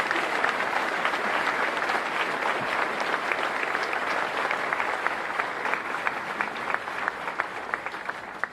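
Audience applause fills a hall during the Milwaukee mayor's 2017 State of the City address, a steady dense clapping sustained throughout with a few sharper claps standing out near the end, no talk over it.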